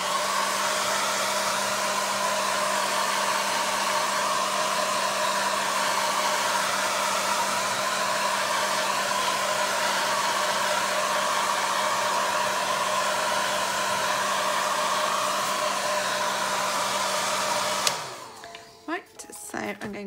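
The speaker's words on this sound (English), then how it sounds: "I do take my hairdryer and I give it a quick blow over to make sure it's dry" Hair dryer blowing steadily over a painted Bible journaling page, a loud continuous whooshing hum for about eighteen seconds before it cuts off, followed by quiet handling sounds.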